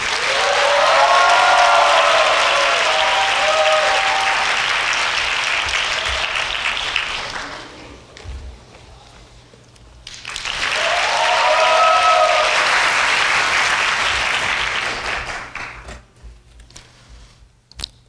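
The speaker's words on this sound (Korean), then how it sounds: "유민재 학생에게 큰 박수를 부탁드립니다." An audience at a university matriculation ceremony in a large hall breaks into loud sustained applause that fades, then a second long round of clapping swells and dies away.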